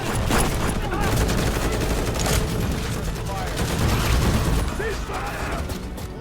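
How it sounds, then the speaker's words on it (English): A crossfire between soldiers and a SWAT team in a film scene, with dense rapid gunfire bursts and mechanical clatter sounding continuously, loud and busy, beneath a narrating voice. "a crossfire ensues among the soldiers and the SWAT team."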